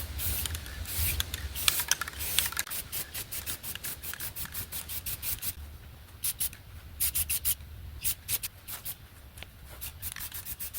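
Metallic paint sprayed onto Enkei wheel centers from a 2003 Mitsubishi Galant, heard as rapid hissing bursts in uneven runs, some longer and some short puffs, close by and fairly loud, with no talking.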